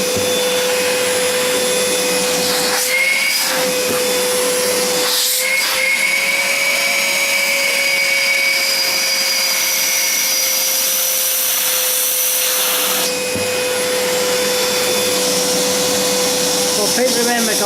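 An Ozito 18V cordless wet/dry vacuum runs continuously close by, a loud steady motor whine and airy rush. The pitch dips briefly a few times as the suction is blocked.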